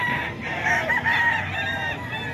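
A Kelso-line gamecock stag crows among other fowl in a busy poultry setting, its calls rising over a steady background of clucking and farm noise.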